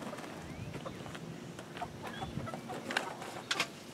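Chickens in a hen house cluck and chatter continuously at close range, with scattered sharper squawks and calls over a busy, low murmuring flock background.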